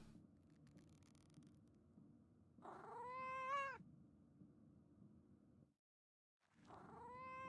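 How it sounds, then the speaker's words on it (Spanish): A cat meows twice in the video game Pentiment: a drawn-out, wavering meow in the middle, then a second meow near the end, both clear against a faint background. "darle comer al gato"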